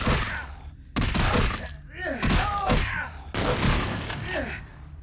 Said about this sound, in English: Aren't you freaked out that I'm hitting you with a severed arm, dude?